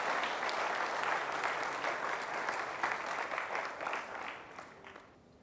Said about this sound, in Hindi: जोरदार तालियों से खुदा के नाम दिया